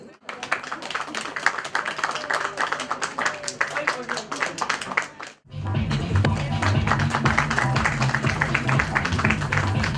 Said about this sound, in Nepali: कृपया जोरदार ताली बजाएर यहाँ सबैजना सहयोग गरिदिनु हुनको लागि अनुरोध गर्दछु